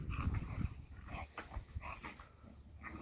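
Two pet dogs playing rough together, with close, intermittent throaty growls and snarls in short bursts, fairly quiet and without talk.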